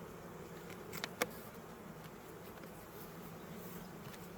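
Honey bees buzz at an open beehive during hive maintenance, making a faint, steady drone with a few small clicks and knocks near the start.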